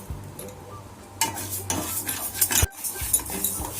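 Split moong dal being dry roasted in a pan, with dry grains rattling and a spoon scraping and stirring against the metal, close up in short irregular bursts without any talking.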